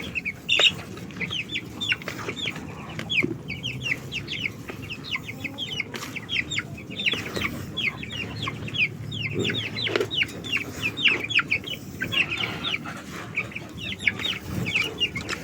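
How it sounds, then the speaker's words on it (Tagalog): Several chickens cluck and chatter continuously nearby, with overlapping calls from a busy flock and faint background farm noise. "Ito ay manok dito."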